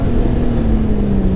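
A 2018 Honda Gold Wing GL1800 with its boxer engine pulls hard under acceleration on a road in Texas, a loud, close, steady droning hum with a gradually falling pitch and no voices.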